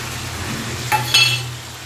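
Mutton with cumin and chilli powder being sautéed and stirred in a pan, a steady low sizzle with two short scraping clinks of a utensil against the metal near the middle.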